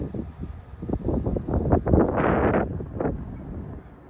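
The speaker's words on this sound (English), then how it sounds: "whoa, it's windy" Strong wind from a severe winter snowstorm in a city buffets the microphone in loud, gusty rumbling bursts, swelling in the middle and then easing off.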